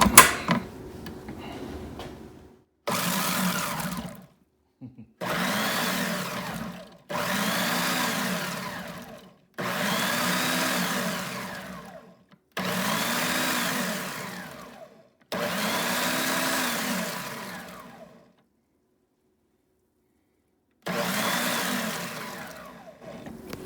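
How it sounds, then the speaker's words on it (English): A food processor blends cilantro and tomatoes for fresh salsa in a home kitchen, running in about seven loud, grinding pulses of a few seconds each, its motor pitch rising and falling, with short silences between bursts. "this is the cilantro in the blender, in the food processor, and then I will add the last of the tomatoes and we'll blend it up"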